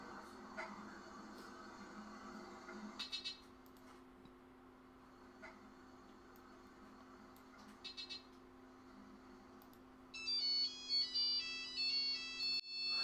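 Nokia mobile phone ringtone, a melodic series of electronic tones playing clearly and fairly close after a quiet stretch of faint room noise and a few small clicks.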